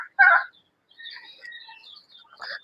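Turkeys kept on a farm gobble and call, a loud burst near the start followed by softer, scattered calls and another burst at the end, with no talking.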